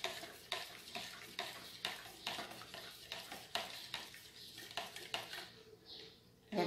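Spoon stirring homemade detergent paste made from Cristal paste soap in a container, rhythmic scraping and knocking strokes about twice per second, close and clear, slowing toward the end.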